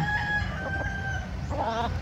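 A rooster crows among gamecocks kept for cockfighting on a backyard farm, one long harmonic crow close by with other fowl clucking underneath.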